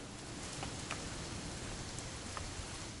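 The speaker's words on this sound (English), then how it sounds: "It's gonna rain the whole weekend, isn't it?" Steady rain falling in the video game What Remains of Edith Finch, a constant hiss with soft scattered drop ticks, even and unbroken throughout with no voices.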